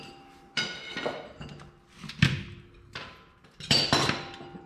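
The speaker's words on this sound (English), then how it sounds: "With a center punch and a hammer" Several sharp metallic strikes of a hammer on a center punch, four or five spaced irregularly, each ringing briefly, close by in a quiet workspace during a Toyota Hilux ball joint replacement.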